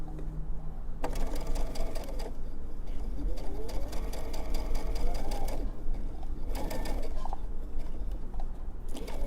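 A sewing machine runs in steady bursts, straight-stitching a fabric face mask, its rapid mechanical chatter close and even, pausing briefly between runs with faint handling noises in the gaps.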